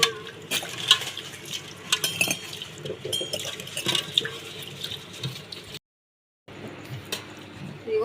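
Sago pearls being washed by hand in water: splashing, swishing and occasional clinks of a vessel, close, with a brief silent gap near the end.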